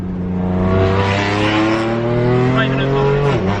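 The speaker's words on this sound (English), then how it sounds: "The downshifts sound amazing." A BMW F82 M4 with an Armytrix valved exhaust roars loudly close by, its steady drone ending in a quick blip and pitch drop like a downshift.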